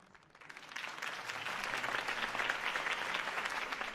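Crowd applause in the video game Batman: The Telltale Series swells from quiet to a sustained, even roar of clapping, heard from a moderate distance.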